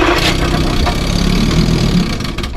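1957 Sea King 5HP outboard motor on a pull-start attempt, a loud, rough, close engine roar sputtering continuously for a couple of seconds before easing slightly at the end.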